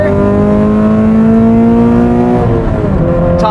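A Scion FR-S fitted with a Cosworth power package pulls hard up a freeway on-ramp, its engine note rising steadily through the revs before a brief drop at a gear change, loud and continuous from inside the car.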